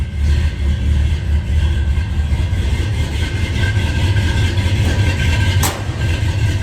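The engine of a 1968 Ford truck runs at a steady, loud idle, giving a continuous low rumble close by, with one brief higher click near the end.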